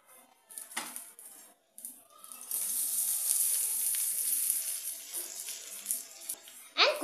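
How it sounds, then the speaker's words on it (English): A dosa topped with egg and cheese sizzling in a frying pan as it is flipped, soft clinks of the spatula giving way to a steady hissing fry that swells and holds before a closing clatter. "I am flipping the dosa."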